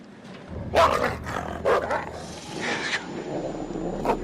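A wolf-like animal in the video game Until Dawn barks and growls in short, loud bursts over a low background hum, with a couple of sharp yelps spaced a second apart.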